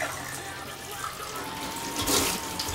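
Tap water runs over a hot hookah bowl being rinsed, a steady close hiss and splash that grows louder and splashier near the end.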